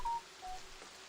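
A phone sounds two brief, faint electronic beep tones in quick succession, quiet and alone.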